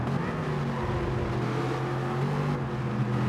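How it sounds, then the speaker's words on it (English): An Aston Martin GT4 in a sim racing game, its engine a steady close drone with stepped pitch shifts as it brakes hard and downshifts, no voices over it. "Hard onto the brakes, downshifting."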